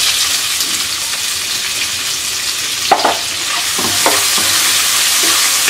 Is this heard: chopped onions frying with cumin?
yes